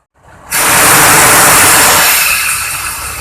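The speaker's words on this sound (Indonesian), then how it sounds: "Ini adalah suara angin yang buang dari dryer gitu ya." A loud, sustained burst of compressed air hissing out of a bus air dryer after a brief quiet start, tapering slightly toward the end.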